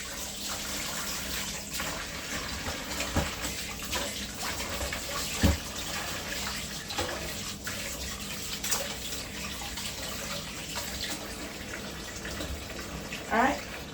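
Tap water runs into a container to soak salt mackerel, a continuous close splashing stream with small knocks and clatters throughout and a voice briefly underneath.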